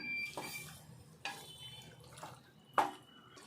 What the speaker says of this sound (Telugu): గరిటె సప్పుడు అవుతుంది